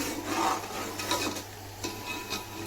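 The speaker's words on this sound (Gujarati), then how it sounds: "હવે આપણે સારી રીતે પાછું હલાવી લેવી" A spoon scrapes and rubs around a pot of dudhpak, a Gujarati sweet milk pudding, in a steady close stirring rhythm of soft rasping strokes with no talking.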